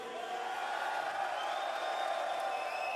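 Large festival crowd at a heavy metal concert cheering and shouting in a steady, dense roar, loud and continuous, with scattered whoops rising above the mass of voices.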